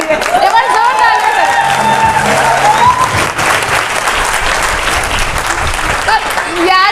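An indoor audience at a Vestige event bursts into loud, dense applause that slowly thins and tapers off toward the end.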